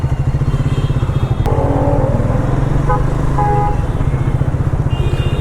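Triumph Thruxton 400 cafe racer motorcycle riding through city streets, its single-cylinder engine thumping in a steady close rhythm with slight revving changes and faint traffic around.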